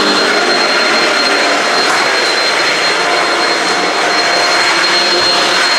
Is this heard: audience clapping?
no